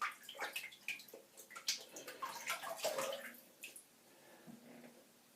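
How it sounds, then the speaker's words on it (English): A natural-bristle shaving brush is wetted with running water, a splashy tap flow with drips and gurgles for a few seconds before fading to quieter trickling. "Just going to wet my brush."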